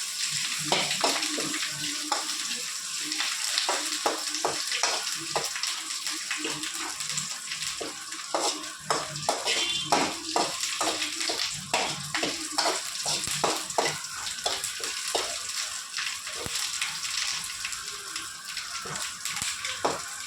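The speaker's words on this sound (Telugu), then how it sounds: "కరివేపాకు మాత్రం చూడండి ఇలా వేయించుకోవాలి" Curry leaves fry in hot oil in a pan while making a bitter gourd spice powder, giving a steady crackling sizzle with many sharp pops throughout, heard alone and fairly close.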